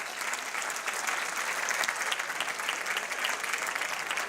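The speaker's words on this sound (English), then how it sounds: "how about a great round of applause for the Salisbury University catering and dining team?" Audience applause for a university catering and dining team at a United Way campaign kickoff breakfast, a steady dense clapping that stays loud and even for a few seconds with no voices over it.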